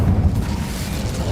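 A fire spell going off in the video game Hogwarts Legacy, a dense, rumbling whoosh with a low boom at the start, steady and close for its whole short length, with no voices over it.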